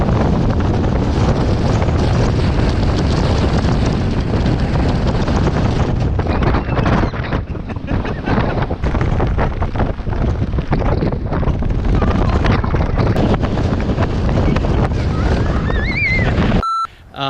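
Strong low-level hurricane-force wind gusting across an exposed New Zealand sheep farm, roaring loudly and continuously against the microphone with buffeting rumble, briefly easing mid-way, ending abruptly.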